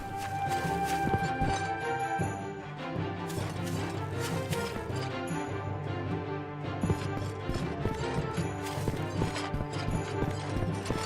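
Horse hooves clip-clop steadily in the video game Daggerfall Unity while the player moves through a town, a continuous rhythmic clatter set against dense game music.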